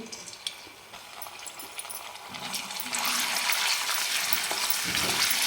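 Ginger, garlic and coriander paste dropped into hot oil in a wok, quiet at first and then breaking into a loud, dense crackling sizzle that holds to the end.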